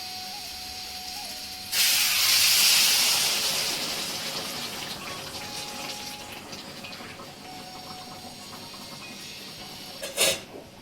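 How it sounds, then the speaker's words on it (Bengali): Hot water poured into a Sundarbans crab curry on the stove, bursting into a loud close hiss that slowly fades over several seconds, followed by a brief clatter near the end. "এবার গরম জলটা দিয়ে দেবো"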